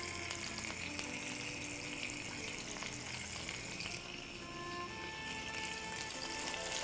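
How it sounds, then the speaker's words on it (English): Tomato halves fry cut side up in extra virgin olive oil, giving a continuous even sizzle and crackle that holds steady throughout, fairly quiet and close, with no voices. "Now we'll add the tomato into the oil"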